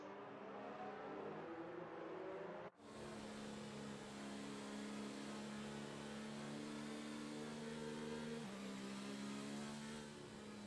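F1 cars from the F1 2019 video game on the formation lap at Abu Dhabi make a continuous engine drone with a steady pitch, briefly cut off once and then shifting slightly lower near the end.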